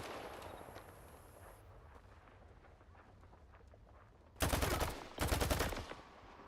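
Two loud, close bursts of gunfire ring out one after the other in S.T.A.L.K.E.R. 2, following a quieter stretch of ambient game noise.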